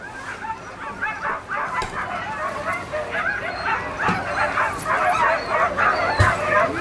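Sled dogs bark and yip nonstop inside a converted tourist bus used as a mushing team's crew vehicle at a sled-dog race, a dense chorus of overlapping barks and whines at close range.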